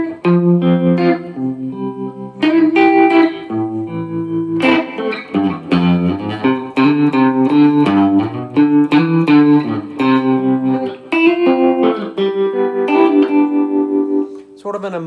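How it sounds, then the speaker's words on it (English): A Telecaster electric guitar played through an amp with a tremolo effect, picking short chord and note phrases whose sustained tones pulse and waver, clear and fairly loud with brief gaps between phrases. "So classic effect is tremolo."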